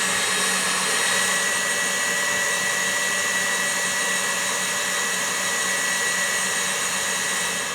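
An electric mixer whirs steadily as it beats egg whites toward firm peaks. The motor drone is loud and unbroken throughout, and no one speaks.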